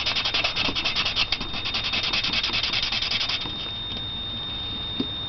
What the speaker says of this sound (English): I want to take my sanding block